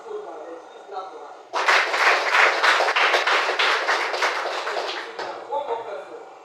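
Audience applause at a broadcasting practical training session at a polytechnic, with about 30 people seated: a sudden, loud burst of many hands clapping that lasts several seconds and then fades. A voice is heard faintly before and after it.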